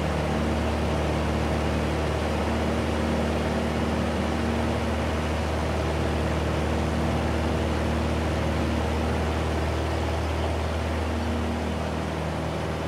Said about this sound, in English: mixture full rich, full throttle, and we should be able to enjoy a normal takeoff.